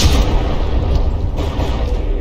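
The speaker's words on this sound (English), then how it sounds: "the bow of the Jaegar getting blown wide open" A massive explosion blowing open a battleship's bow during a From the Depths naval battle, a continuous loud rumbling roar of blasts and heavy booms with no pause, filling the whole moment.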